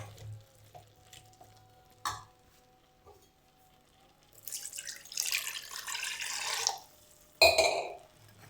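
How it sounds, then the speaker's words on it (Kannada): Water being poured into a cooking pot during home cooking, heard as a close splashing gush lasting a couple of seconds, followed by a brief second pour amid light clinks and stirring. "ಸೊ ಈಗ ಇದಕ್ಕೆ ಸ್ವಲ್ಪ ವಾಟರ್ನ ಹಾಕ್ಕೊಳ್ಳೋಣ."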